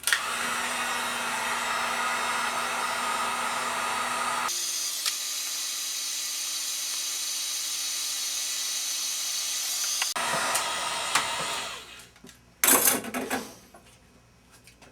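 Heat gun warming metal to loosen epoxy, a steady loud blowing whir that shifts to a lower setting partway, then cuts off, leaving brief clatter and handling noises.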